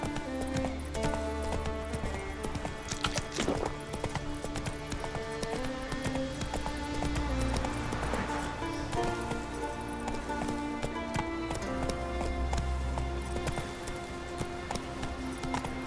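Steady clip-clop of a horse's hooves trotting in The Witcher 3, a continuous rhythmic beat sitting under game music and ambient noise throughout.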